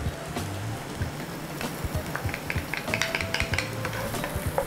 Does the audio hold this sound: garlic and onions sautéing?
yes